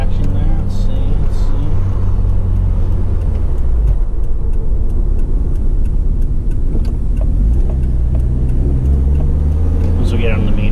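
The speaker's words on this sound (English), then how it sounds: "This towel blow-off valve sounds just fucking amazing." Inside a Mitsubishi Evo 4 turbo car with a Tial blow-off valve, the engine drones loud and steady throughout, with a brief sharp hiss of the valve venting toward the end and talk over it.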